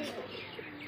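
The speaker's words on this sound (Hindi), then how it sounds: "देसी कबूतर है, पूरे देसी कबूतर है" Desi pigeons giving a soft, low cooing call close by, a brief throaty murmur with faint chirps, with a quiet voice in the background.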